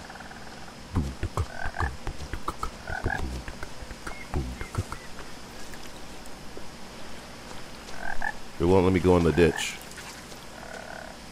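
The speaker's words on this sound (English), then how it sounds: "Oh no, I took Dia's path into the froggy jungle." Frogs croak in a jungle in the video game What Remains of Edith Finch, with scattered croaks early on and a louder burst near the end, while a person talks briefly over them.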